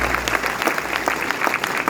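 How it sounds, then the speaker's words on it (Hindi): Enthusiastic applause from an audience at a talk, many hands clapping steadily at moderate volume throughout, with no voices over it. "एक बार जोरदार तालियां उनके माध्यम से होनी चाहिए"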